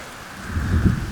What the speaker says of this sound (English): they're probably seeking shelter from the rain